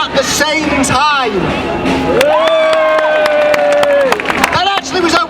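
A theater audience claps and cheers at once, giving dense applause under a swell of loud whoops, shouts and a long sustained yell, close and lively throughout, with some voices standing out from the crowd.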